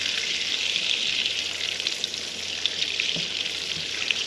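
Butter melting in a preheated pan for Japanese curry roux, a steady bright hiss and fizz with small pops and a faint stir or two, close-up and unbroken, no voices.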